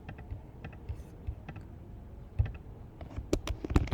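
Keys on a Mac keyboard are tapped in irregular bursts of light, close clicks, getting quicker and louder toward the end, with no talking.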